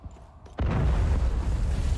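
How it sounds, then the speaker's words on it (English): A heavy artillery explosion in a video game hits suddenly after a quiet moment, a deep booming blast whose rumble lingers and rolls on for over a second. "an artillery strike or something just rocked the building"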